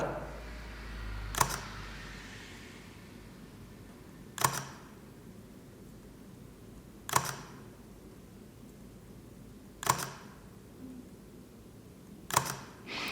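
A Leica camera with a Noctilux 35mm lens and Elpro 52 close-up attachment fires its shutter five times at spaced intervals, each a crisp, close mechanical click in an otherwise quiet room.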